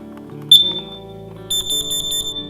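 The test button is pressed on a ceiling-mounted, battery-powered carbon monoxide alarm. It gives one loud, shrill beep, and after a short pause a rapid run of piercing pulsed beeps follows over a low, steady background hum.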